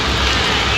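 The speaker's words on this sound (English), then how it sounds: "It's raining heavily." Heavy rain pours steadily outdoors at a muddy site, a dense, loud wash of hiss with no break and no voices.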